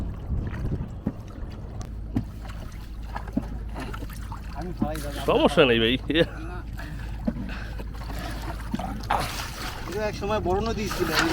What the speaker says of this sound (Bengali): এত বড় নদীতে একটা ছোটো নৌকা সত্যি একটু ভয় লাগতেছিল